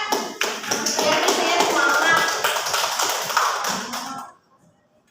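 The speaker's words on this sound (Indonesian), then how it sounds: "Tepuk tangan dong sama Risha." Students in a classroom clap for a classmate called to the front, giving quick, dense, close clapping that stops abruptly near the end, with a voice speaking briefly under it.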